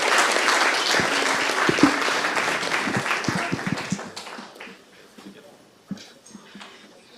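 An audience applauds to welcome a conference speaker at a lightning talks session, a dense wash of clapping that fades out over several seconds into scattered claps and room noise.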